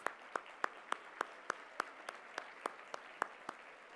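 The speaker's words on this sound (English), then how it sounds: "Let's give them a round of applause." Sparse, evenly spaced claps from a small audience at the opening session of a bilingual parents' summit, roughly a dozen distinct hand claps over a few seconds, fairly faint with no talk over them.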